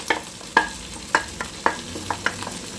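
A spoon stirs leftover cooked rice into a tomato mixture in a pan, giving a series of about eight quick, close scraping strokes at a steady rhythm over a soft sizzle.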